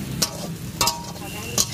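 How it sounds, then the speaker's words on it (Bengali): Potatoes frying in a home kitchen, a steady sizzle under three sharp scraping strokes of a metal spatula against the pan at roughly even intervals. "এদিকে হচ্ছে আমাদের আলু ভাজা সকালের"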